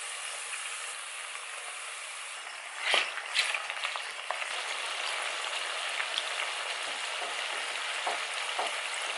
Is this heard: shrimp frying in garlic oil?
yes